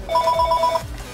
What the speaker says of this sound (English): Shut up, let me turn off this phone.